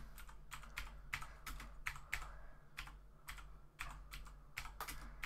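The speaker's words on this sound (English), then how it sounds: "Gonna type up." Keys on a computer keyboard clatter in quick uneven bursts of close, crisp taps with short pauses between runs, with no voices.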